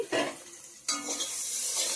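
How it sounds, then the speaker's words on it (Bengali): Bitter gourd sizzles and crackles in a hot pan, with two bursts of stirring and scraping that flare the frying noise before it settles into a steady hiss. "করলা ভাজাটা করে নিচ্ছি"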